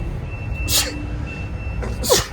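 Two sharp sneezes, one early and one near the end, over low background hum.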